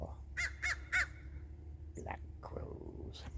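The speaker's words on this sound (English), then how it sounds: "Black crows." Black crows cawing outdoors on a rural property: three loud caws in quick succession, then softer, more distant calls mixed with faint background noise.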